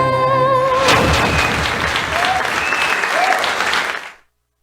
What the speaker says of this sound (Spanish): Fuerte aplauso para Kids Dance Academy.